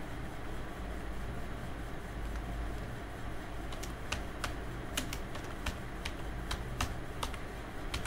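Keys tap on a computer keyboard as text is entered into an Excel sheet, a burst of distinct clicks in the second half over a steady low background hum, with no voices.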